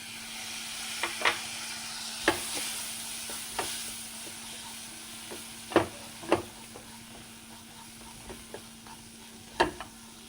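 Tomato and spices frying in a pan, a steady sizzle broken by repeated sharp scrapes and taps as the mixture is stirred, close and fairly quiet, with no talking.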